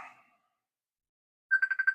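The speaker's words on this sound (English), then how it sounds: "now the phone is ringing" A telephone rings in a workshop during keyboard soldering work, a single electronic warbling ring pulsing rapidly for about half a second near the end after a brief faint tone and near silence.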